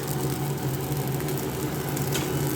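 Mixed vegetables fry in hot oil with panch phoron, bay leaf, ginger and split green chilies, a dense, steady, close sizzle with faint stirring scrapes and no break, and no voices.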